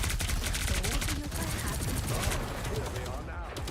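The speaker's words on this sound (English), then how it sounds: "He's shooting at tanks down main. Shooting more tanks." Rapid gunfire from a Marvel Rivals match, shots aimed at enemy tanks, rattling steadily and densely throughout with no pause.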